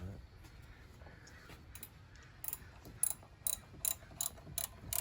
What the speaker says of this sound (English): All we need to do is just tighten up all the bolts.